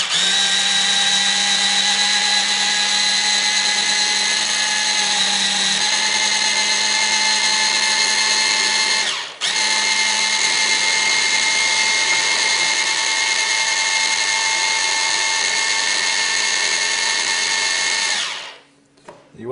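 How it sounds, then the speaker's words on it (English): A hand blender at top speed purées chilli jam into a fine paste, a loud, steady high-pitched motor whine running nearly continuously with one brief dip midway and a sudden cut-off near the end. "if you want it finely chopped, is what I want, put the speed right up and then blend it even more"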